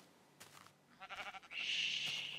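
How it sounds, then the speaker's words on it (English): Sheep in the Minecraft video game bleat in two short wavering calls, the second louder and more sustained, over a quiet background with no speech. "It's a rare species of sheep. The sheep of white wool."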